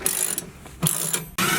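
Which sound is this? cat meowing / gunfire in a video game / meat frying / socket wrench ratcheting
socket wrench ratcheting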